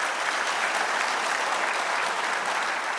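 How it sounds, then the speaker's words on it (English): Dense, steady applause from an audience at an annual sales conference honoring a top sales rep, a continuous even wash of clapping with no pauses and no talking over it. "So let's give Andy a big round of applause"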